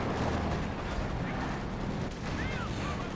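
Heavy DShK machine gun fire in Company of Heroes 2 battle, a dense continuous rattle blended into a loud wash of gunfire and explosions, steady throughout with faint whistling effects overhead.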